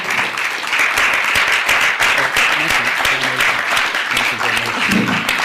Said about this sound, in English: Let's give a warm round of applause to Ted Gunderson, ladies and gentlemen.